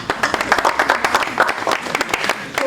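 An audience claps on cue to welcome a government minister at an anniversary celebration, a dense, steady burst of many hands that runs the whole stretch with scattered voices mixed in.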